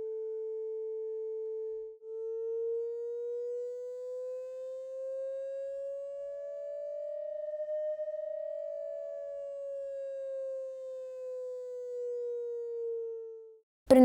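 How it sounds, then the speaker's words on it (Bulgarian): A pure sine tone from even periodic vibration holds steady for two seconds, then glides slowly upward in pitch and back down like a siren sweep. It is smooth, loud and alone, with no voices, and ends with a brief click. "Тонът се получава при равномерно периодично трептене."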